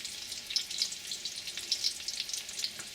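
Beef taquitos frying in oil in a pan give a steady, close crackling sizzle with small sharp pops scattered through it, and no one speaks.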